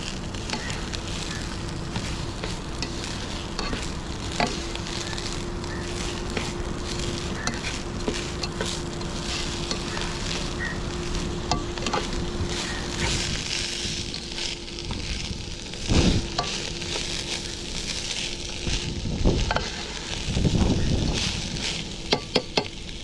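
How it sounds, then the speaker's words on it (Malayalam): Soaked rice roasting in a pan until its water dries off, a steady crackling sizzle throughout with occasional stirring scrapes and knocks toward the end. "ആ വെള്ളമൊക്കെ പറ്റുന്ന വരെ ഒന്ന് വറുത്തെടുക്കാം"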